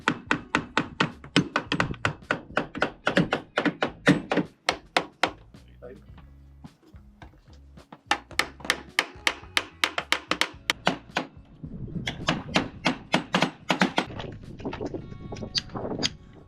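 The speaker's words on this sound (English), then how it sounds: "Despite lots of prying, banging, heavy hammers, and a specialty impact driver, a couple of the screws would not give up." Heavy hammer blows and prying on stuck screws of a sailboat mast furling unit on an offshore sailboat: close, sharp metallic knocks come in fast rhythmic bursts, broken by a short pause and some low talking.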